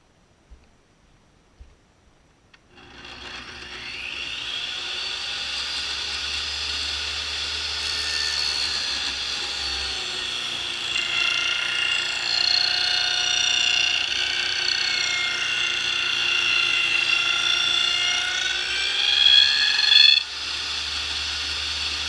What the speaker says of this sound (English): I'll just dado out the trough right there for our boards